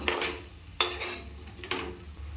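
Sautéed mushrooms with rock salt are stirred in a pot, with sharp scrapes and clatters of a spoon against the metal over a low sizzle, several strokes in quick succession.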